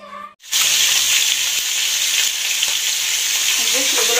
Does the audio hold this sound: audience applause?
no